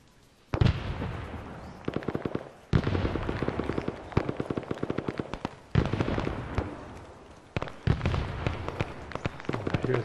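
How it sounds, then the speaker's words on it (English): Gunfire in the video game Arma, set at Khe Sanh, crackles as rapid bursts and single shots, with several loud sharp volleys separated by brief pauses and a continuous rattling exchange. "Here's gunfire off in the distance."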